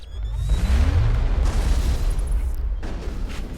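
A singularity power in Mass Effect unleashes a loud, sustained low rumbling blast with a rising whoosh, rolling on for several seconds before fading slightly.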